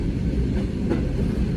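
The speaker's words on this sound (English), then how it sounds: "here Mike and I are taking a train to Auschwitz" A comfortable, heated passenger train travelling through Poland toward Auschwitz, heard from inside as a steady low rumble of rolling wheels with faint rhythmic clatter.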